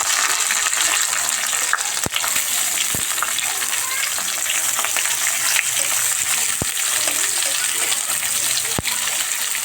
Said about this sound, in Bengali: পেঁয়াজটা একটু ভাজা ভাজা হতে দেবো